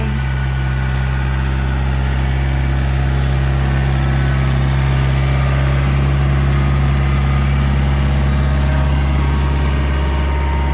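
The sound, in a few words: tractor engine idling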